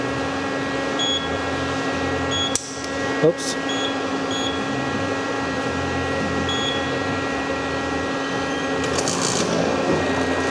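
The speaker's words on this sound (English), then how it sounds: "then we need to put a vacuum on the system just to make sure that there's no large leaks" A vacuum pump hooked to a car A/C system drones steadily and loudly with a constant tonal hum, broken only by a couple of brief clicks and knocks, and a voice speaks briefly.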